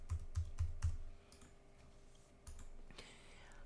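A password is typed on a computer keyboard: a quick run of four close key clicks, a short pause, then a few more scattered taps in a quiet room.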